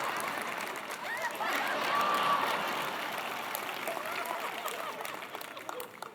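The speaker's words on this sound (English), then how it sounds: "Let's give them a round of applause." A keynote crowd applauds Mark Benioff and Parker Harris, seated in the front row; the clapping is faint and distant, a soft continuous wash with a light murmur of the crowd.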